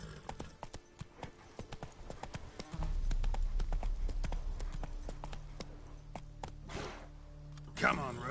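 Roach, Geralt's horse, walks through the world of The Witcher 3, its hooves clip-clopping in a steady, close rhythm over a low ambient rumble, with a brief voice near the end.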